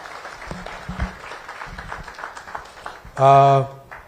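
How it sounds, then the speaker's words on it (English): Conference audience clapping at a workplace safety and health event, a brief round of applause mixed with murmuring, then a short loud tonal burst near the end. "We can put another round of applause for Shinga."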